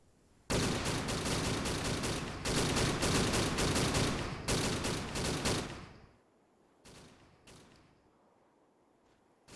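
Mag-dump gunfire in an Arma-style military video game mission: long, loud bursts of rapid automatic fire for about six seconds, then a few scattered short bursts over quieter background.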